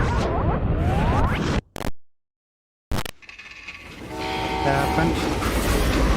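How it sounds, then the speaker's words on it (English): Train sounds from the Call of Juarez Gunslinger video game: rumbling rail noise and squealing tones, a sudden cut to silence, then a rising roar of rolling wagons and clanking mechanisms. "How'd they stop this train in the first place?"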